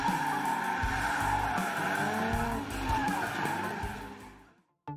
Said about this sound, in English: Then he learned to drift.